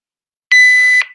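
A loud electronic workout interval buzzer sounds once, a steady harsh tone lasting about half a second before cutting off, alone with no talk.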